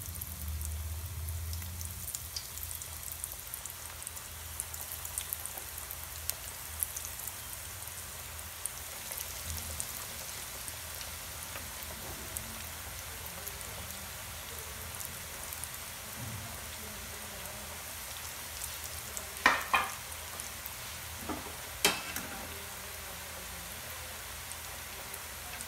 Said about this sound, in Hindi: हमने इसको गोल्डन ब्राउन होने तक फ्राई करना है।